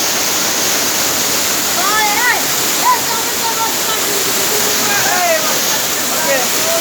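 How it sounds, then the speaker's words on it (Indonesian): Waterfall at Cibono village in Indonesia, a steady broadband roar of falling water running throughout, with faint bird chirps rising above it. "Selamat datang di air terjun Desa Cibono."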